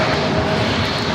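A Southwest Boeing 737-700 jet arriving at San Diego airport, with a loud, steady engine roar close by that fills the short moment with no talk.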